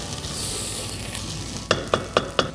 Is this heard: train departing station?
no